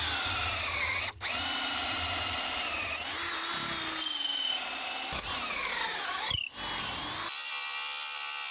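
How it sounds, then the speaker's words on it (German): A power drill boring a hole in wood at an outdoor workshop area, whining steadily in several bursts with rising and falling pitch and short pauses between runs. "Dann müssen wir noch ein Loch bohren"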